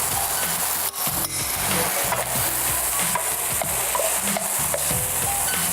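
Onion leeks being stir-fried into a pan of fried rice, a continuous sizzle under repeated scraping and tossing strokes of a spatula against the pan, close and steady, with no voices.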